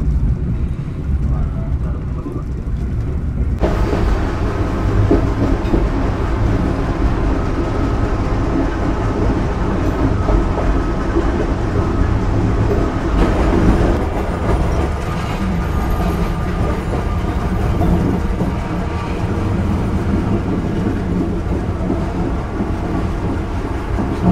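A Rajabasa passenger train hauled by a CC201 locomotive rumbles steadily along the track, a loud continuous rolling roar with a sudden brightening after a few seconds that persists throughout.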